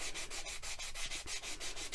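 Fine-grit abrasive pad rubbed back and forth in steady, rhythmic strokes, about nine passes in two seconds, a close, soft, hissing scrape with no voices.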